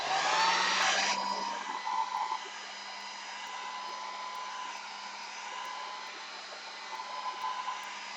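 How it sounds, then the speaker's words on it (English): A heat gun drying a gel print, a steady close whooshing blower that is loudest at the start and then settles into a constant, slightly quieter airflow hum for several seconds, no talking. "Heat gun."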